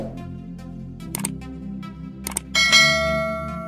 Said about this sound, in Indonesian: jangan lupa klik tombol subscribe terlebih dahulu bagi yang belum, dan aktifkan lonceng notifikasinya